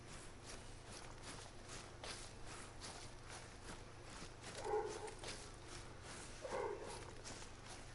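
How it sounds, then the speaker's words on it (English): Distant dog barks in the hunting video game Call of the Wild, two faint bursts a couple of seconds apart, set against a steady outdoor ambience with soft footstep-like crunches. "At this point, I hear barking."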